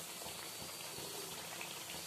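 Beet kachuri deep-frying in hot oil, turned over and over with oil spooned across the top, giving a steady, close, dense sizzle and bubbling that runs unbroken throughout.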